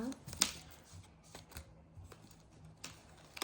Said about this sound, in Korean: 그다음 이렇게 해서 또 접어줍니다